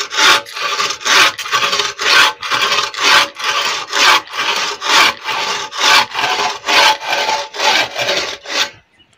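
A hand saw cuts through wood in steady back-and-forth strokes, about fourteen rasping pulls in an even rhythm, close and loud.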